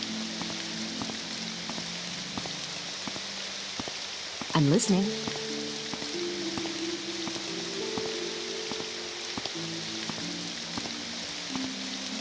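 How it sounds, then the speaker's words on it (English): Constant patter of rain in Morrowind's Project Cyrodiil setting, a soft hiss filling the whole stretch, with a brief spoken remark midway. "Oh, great, it's a rainy day today."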